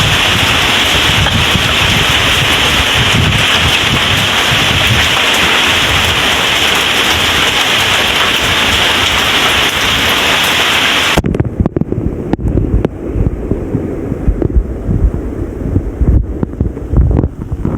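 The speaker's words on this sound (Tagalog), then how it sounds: "Lakas yung hangin." Heavy typhoon rain and roaring wind batter the microphone in a dense, loud wash, easing abruptly partway through into a softer, gusty downpour.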